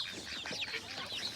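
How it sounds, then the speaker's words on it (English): A hen in a farmyard clucks in agitated, rapid bursts among other fowl, fairly close and continuous over a scattering of bird calls. "Our angry mum chicken."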